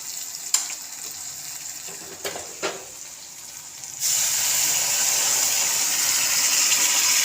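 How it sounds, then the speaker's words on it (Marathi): Hot water is poured into a pan of upma, and a broad, steady rush of gushing, sizzling water starts abruptly partway through and continues loud and close, after quieter pan sounds and a few light knocks. "आता आपण त्यामध्ये पाणी टाकणार आहोत. पाणी आपलं इकडं गरम झालेलं आहे."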